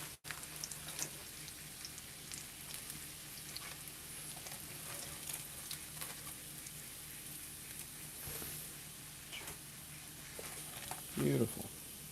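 Breaded chicken of the woods mushroom pieces crisp in hot oil, giving a soft, steady crackling sizzle at low volume with a brief louder clatter near the end, while a person talks.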